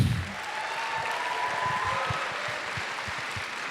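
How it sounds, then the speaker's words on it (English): Sustained applause from an audience at an ethics boot camp lecture, honoring a professor, a steady broadband wash of clapping that starts right away and stays fairly even throughout. "How about we give a round of applause for Professor Cicchetti?"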